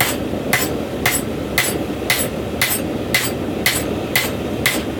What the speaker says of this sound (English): coming out on the diagonal, using the flat side of the hammer